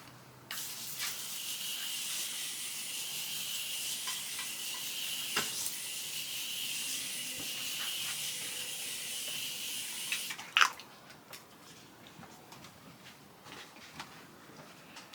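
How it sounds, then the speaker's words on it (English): A continuous fine hissing of makeup setting spray lasts about ten seconds, quiet and close, then stops, followed by faint rustling. "before I set my face with my setting spray"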